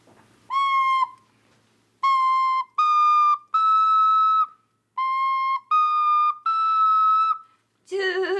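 A person whistles the melody of the Japanese children's song "Tulip" as a series of clear, pure sustained notes in short phrases separated by pauses, close and loud, ending in a brief burst of another sound.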